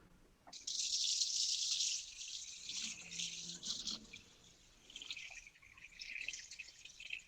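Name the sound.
pouring water into a pot of legumes and grain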